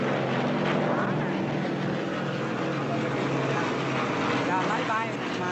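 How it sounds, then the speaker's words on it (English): Airplanes flying overhead during the Vietnam War, a continuous loud droning engine roar that holds steady across the whole stretch. "The planes again."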